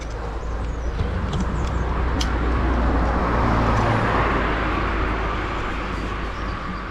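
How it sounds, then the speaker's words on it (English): Cars rolling along a main road through the mountain pass of Puerto El Pontón toward Santander and Bilbao, a steady close roar of passing traffic that swells briefly midway, with no talking. "Yes, this is a regular road with cars on it."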